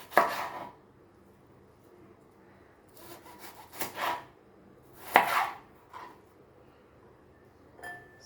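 A knife slices bitter gourd (karela) thinly on a cutting board in a few separate bursts of close, crisp cutting strokes with quiet gaps between.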